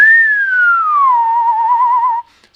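A single clear whistled tone glides gently downward, then wavers slightly before stopping, close and steady with no other sound.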